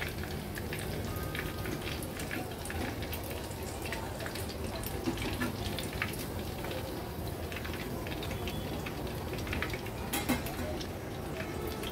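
Prawn pakodas deep-frying crisply in hot oil, a steady dense sizzle and crackle with constant fine popping, close and continuous, under someone speaking.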